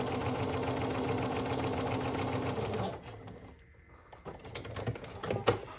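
A sewing machine stitches an economy quilt block in a steady, close, loud mechanical whir for about three seconds, then stops, leaving quieter handling noises and light clicks.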